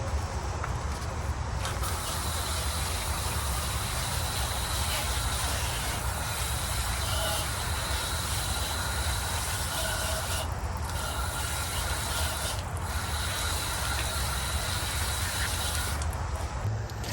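A juicer extracting pennywort juice runs continuously with a loud, dense whirring hiss, steady throughout with brief dips in its high hum.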